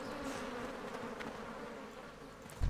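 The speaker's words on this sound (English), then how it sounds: "Some bugs over here, some Zookash wasps." Zookash wasps in World of Warcraft give off a steady, close insect buzz that drones evenly throughout, faint and alone with no talk.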